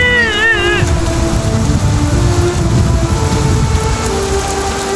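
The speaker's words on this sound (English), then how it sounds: "The rain will stop soon." Steady rain pours down in a flood-soaked outdoor setting, a dense continuous hiss with low rumbling beneath, while a short meow-like tone rises briefly at the start.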